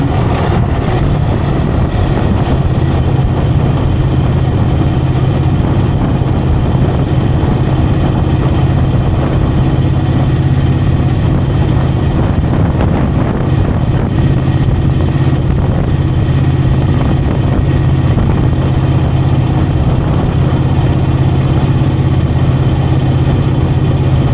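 A 2001 Moto Guzzi EV80 Anniversary motorcycle being ridden, a loud, steady low engine drone mixed with heavy wind rush that holds constant throughout.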